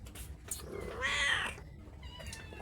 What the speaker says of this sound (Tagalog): Ang pusa ko'y nakaharang talaga.